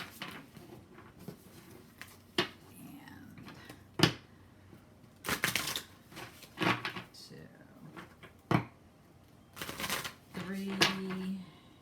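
Three decks of playing cards being shuffled, heard as a series of short crisp riffle and patter bursts separated by brief pauses, close and moderately loud.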